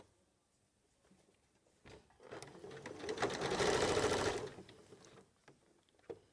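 Nearby, a domestic sewing machine whirs through a sleeve seam on a garment in one smooth run that swells and then fades, ending with a few faint handling clicks.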